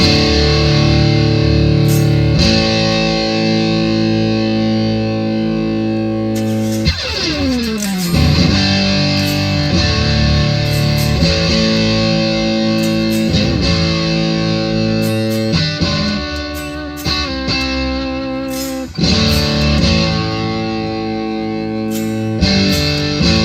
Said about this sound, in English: I'm going to turn the distortion on. So we've got it on distortion mode.